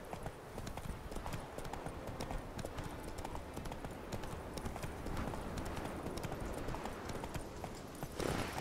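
Roach, a horse in The Witcher 3 game, gallops with steady rapid clip-clop hoofbeats throughout, fairly close and continuous, with a brief louder burst near the end.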